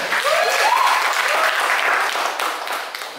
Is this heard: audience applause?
yes